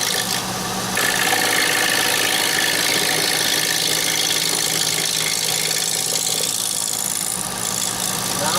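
A wood lathe spinning a three-winged bowl during a light cut, giving a loud, steady mechanical hum and whir with faint scraping texture, continuous and close.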